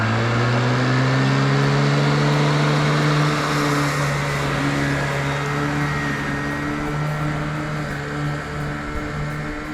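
Lawn mower running at maximum RPM with turbo engaged while mulching grass, a loud steady engine drone with strong harmonics close by throughout, no voices.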